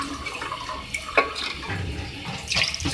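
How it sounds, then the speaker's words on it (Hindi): Water is poured into a pot of browned beef keema with lauki (bottle gourd) while cooking, a continuous splashing gush with a few brighter spatters, close and moderately loud, with no talking. "इसके लिए मैं 2 गिलास पानी इसमें ऐड कर रही हूँ"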